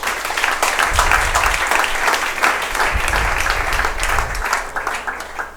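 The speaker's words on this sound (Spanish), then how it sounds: "Fuerte el aplauso para el Señor." A church congregation breaks into loud, sustained applause, many hands clapping together in a dense wash with a few heavier low thumps mixed in, continuing for several seconds.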